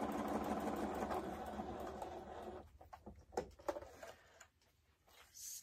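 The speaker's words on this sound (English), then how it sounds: "So I just simply top stitch at the edge of each one of these seams, the end of the seams." Sewing machine top stitching along the seam edges of a fabric duffle bag, a dense steady run of stitching that fades out partway, followed by scattered handling clicks and taps at close range.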